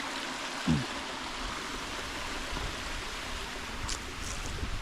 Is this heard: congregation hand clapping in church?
no